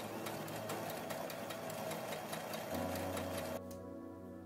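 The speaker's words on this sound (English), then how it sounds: "I'm just reversing the stitching on that item that I'm sewing just so that it doesn't become untangled." A sewing machine runs in reverse, backstitching a care package item, a quick rhythmic mechanical chatter that holds steady, then changes pitch and stops near the end, close and clear with no talk.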